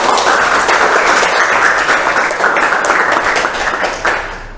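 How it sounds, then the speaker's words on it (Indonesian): Classmates applaud a student named Dafa after an answer in a school lesson: loud, close, tightly packed clapping that holds steady throughout and eases a little at the end. "tepuk tangan dulu untuk Dafa ya."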